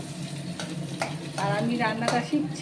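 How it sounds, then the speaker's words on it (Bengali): Vegetables frying with egg in a hot pan, a steady sizzle with stirring scrapes running through, while someone talks over the cooking. "এখন এই ডিমটা দিয়ে সবজিটা ভাজা হচ্ছে।"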